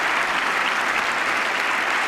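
Sustained, even applause from a large audience at a political speech fills the whole stretch as a dense, uniform wash of clapping with no voices on top.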